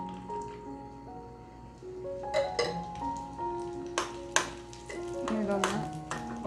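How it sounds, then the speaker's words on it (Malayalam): Raisins frying in ghee in a pan, with intermittent stirring scrapes and clinks and a light sizzle, close up, over soft steady tones in the background. "ഇതൊന്ന് വറുത്തെടുക്കാം."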